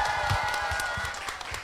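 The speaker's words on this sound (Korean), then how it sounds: "박수로 환영해 주세요." An audience at a live podcast recording claps in welcome, a dense, steady patter of hands that fades slightly toward the end.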